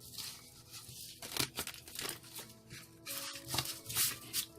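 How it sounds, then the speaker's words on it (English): Tarot cards are shuffled close up in a dense run of crisp riffling, slapping and crinkling sounds with no speech. "One more shuffle, they say."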